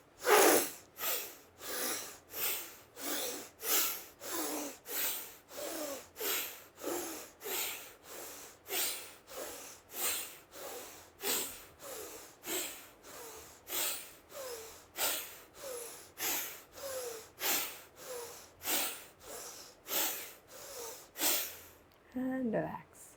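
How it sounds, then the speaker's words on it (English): Rapid forceful breaths during a breathing exercise, inhales and exhales pumped out in a steady, regular rhythm of about one sharp burst per second, close and loud, sustained for over twenty seconds before stopping. "Actively inhale. Actively exhale."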